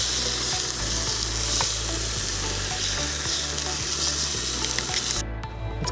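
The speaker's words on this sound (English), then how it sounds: "Nothing better than just a little cook up with a few sausages and fresh rolls" Sausages sizzle steadily on a cooktop at an outdoor fishing cook-up, a loud continuous frying hiss with faint scattered pops and a low hum underneath.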